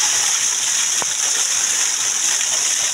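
Cold water rushes steadily at a mountain resort near San Vicente, Jamindan, Capiz, a loud constant hissing gush with no pauses for the whole stretch.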